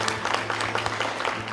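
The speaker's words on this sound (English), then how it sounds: "So I give you a round of applause for that." An audience at an elementary school event applauds, lively close clapping with irregular sharp claps over a faint low hum, short and continuous.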